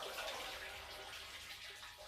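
A kitchen tap runs steadily, water splashing over soaked malting grain in a sink or tub, a constant close hiss with no voices.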